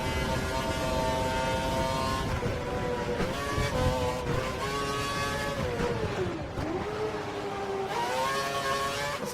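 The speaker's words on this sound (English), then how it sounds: "Eat every final bit of fuel out of this Mercedes engine." A Mercedes-engined Formula 1 car in F1 2012 screams through its gears at the South Korean Grand Prix, with loud rising and falling revs, brief dips at shifts and a continuous close engine howl.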